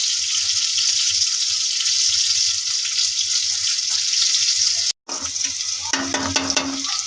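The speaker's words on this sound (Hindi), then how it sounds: "अब इसको ब्राउन होने देती हूँ, प्याज को अच्छी तरह से ब्राउन हो जाए" Onions sizzle steadily as they fry toward brown in a pan, a loud continuous hiss that cuts out for a moment and then resumes with a few light clinks.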